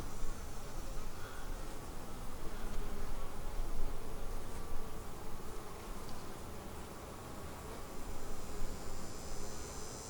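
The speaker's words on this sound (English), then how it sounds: "you notice how calm these bees are? This is a queen right hive." Dense, steady buzzing of honeybees rising from an open, calm queenright hive during a frame inspection, a close continuous drone with no talk over it.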